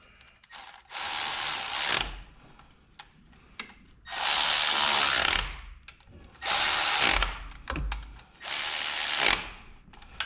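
A ratchet with a 12 mm socket clicks in four bursts of rapid pawl ratcheting, each a second or two long and separated by brief pauses, close up while working on a Mazda Miata NB engine, with no talk.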